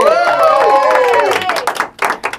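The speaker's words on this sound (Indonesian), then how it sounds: "Tepuk tangan buat Raditya Dika." Studio audience on an Indonesian comedy talk show breaks into a burst of clapping and cheering, loud and dense at first, then thinning into scattered claps with voices over it.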